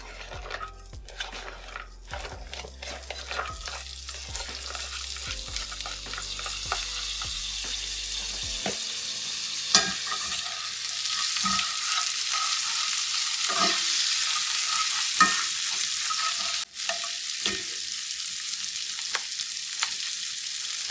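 Onions sizzle in beef drippings in a hot pan or cast-iron skillet on a cooktop, a steady close frying hiss with scattered clicks and knocks of stirring, no voices.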